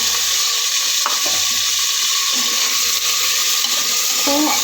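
Marinated mixture, likely potato and soy chunks with yogurt, hits browned onions in hot oil for a biryani, giving a loud, steady hiss and sizzle throughout with a few faint clinks, no talking.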